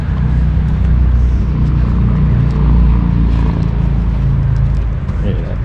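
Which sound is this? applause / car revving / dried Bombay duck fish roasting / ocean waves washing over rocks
car revving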